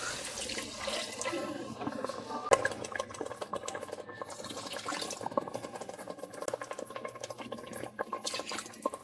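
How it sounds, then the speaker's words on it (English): Stock pours into a pot of frying jollof rice base, a liquid splashing and sizzling with clinks and stirring sounds, close and continuous. "So at this point I'll add my stock."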